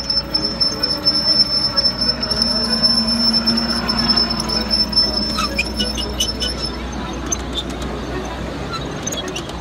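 A small miniature train, the Aso Boy mini train at a Kumamoto Station festival, rolls past with rhythmic clacking and a high, thin wheel squeal running through, fairly close and steady.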